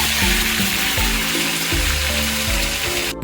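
Onion frying in oil for a Kolkata chicken rezala, a constant hissing sizzle that carries on throughout under background music.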